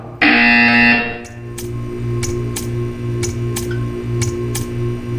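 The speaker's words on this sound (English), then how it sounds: "You will hear a buzzer." A test-chamber buzzer from the video game Portal 2 blares as a loud, steady tone for about a second, followed by a series of short ticking clicks over a low electronic hum.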